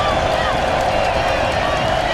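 Dense, steady roar of a large college football crowd at Bridgeport Stadium during Elon at James Madison, continuous and loud, with a play-by-play announcer talking over it.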